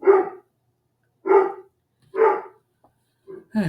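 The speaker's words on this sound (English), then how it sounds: "I'll wait a second for my dogs to shut up." Several dogs barking in loud, separate bursts, three strong volleys about a second apart and then a quieter pair at the end, close by and alone with no voices.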